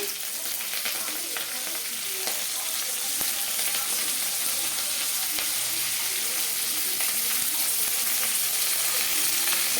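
Mustard seeds, cumin and curry leaves sizzling in hot oil for drumstick sambar, a constant dense crackling hiss with small pops, steady and close throughout.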